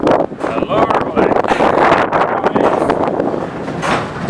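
Inside Wicken Windmill, the bonker, also called the jogger scree, and the rest of the mill machinery keep up a steady, dense rattling and rumbling clatter that runs close and loud throughout.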